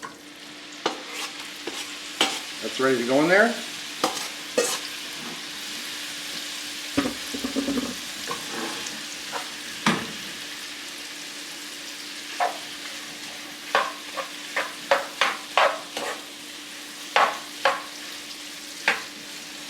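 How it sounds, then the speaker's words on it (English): Chicken with wing sauce and honey sizzling in a hot pan, a steady close frying hiss broken by repeated scraping and stirring strokes from a utensil, with brief speech partway through. "See how that's sizzling up real good?"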